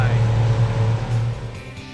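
A small fishing boat motors through Woodside Bay in New Zealand, its engine holding a steady, close low drone for the whole stretch.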